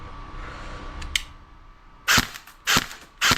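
A Bolt DDM4 RIS airsoft rifle fires three sharp, loud cracks about half a second apart, after a faint click, with quiet room tone between shots.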